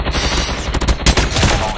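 Gunfire in Call of Duty Mobile comes as rapid loud bursts of automatic shots, close and dense, with a short pause before another volley.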